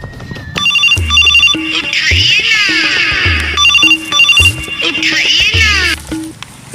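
A phone ringtone plays a bright, repeating electronic melody in two bursts, fairly loud and close, with faint background voices.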